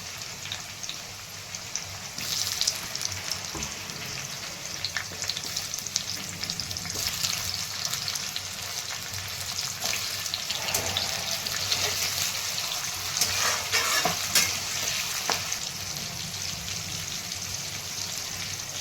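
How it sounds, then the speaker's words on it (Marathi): Onion and tomato sauté in a pan with a steady, busy sizzle and crackle, broken by scraping stirs partway through, and no one talks over it. "कांदा गोल्डन कलरवर परतला का टोमॅटो टाकून घेत आहे"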